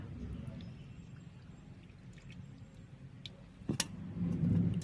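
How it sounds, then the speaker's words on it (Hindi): Water poured into a pot of chicken while cooking rice and chicken, with a brief splashy burst and then a louder steady gushing pour, close up over faint background noise. "पानी पकई दबा"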